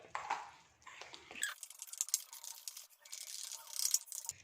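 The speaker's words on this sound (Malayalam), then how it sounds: "അപ്പോൾ ഇനി ഇത് നന്നായിട്ട് മിക്സ് ചെയ്തെടുക്കണം കേട്ടോ." Vanilla sponge cake batter being mixed by hand in a bowl, giving soft scraping, stirring and patting sounds that are close and fairly quiet, with no talk.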